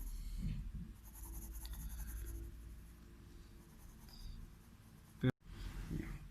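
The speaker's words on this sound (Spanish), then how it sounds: "voy a pasar el mismo 2B, no he cambiado el lápiz" 2B pencil drawing on paper for an academic drawing, a faint continuous scratchy rubbing of graphite strokes, close and quiet, broken by a brief knock near the end.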